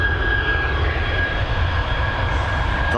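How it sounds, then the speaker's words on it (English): An Etihad Boeing 787-10 Dreamliner on the runway at Dublin Airport produces a loud, continuous engine roar with a steady high whine running through it. "That Dreamliner 787-10 series operated by Etihad now lined up and ready to begin its journey"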